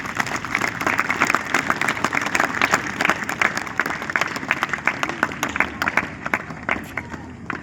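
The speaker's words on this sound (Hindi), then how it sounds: "आप उनके लिए भी जोरदार तालियां बजाएं।" Loud, dense applause from a large audience at a school event, steady clapping filling the whole stretch with a slight fade near the end.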